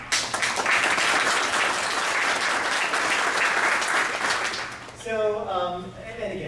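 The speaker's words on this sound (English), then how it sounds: "Just a round of applause." A roomful of conference attendees at a packed government industry session applauds in a dense, sustained wash of clapping that fades after about five seconds, when a voice begins speaking over it.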